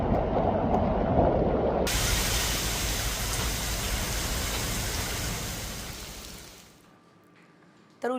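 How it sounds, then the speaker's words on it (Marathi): Heavy unseasonal rain during a thunderstorm in Ulhasnagar and Ambarnath, a dense steady hiss of downpour that fades out near the end before a short sharp sound. "दुपारच्या वेळी विजांच्या कडकडाटासह जोरदार पाऊस पडला"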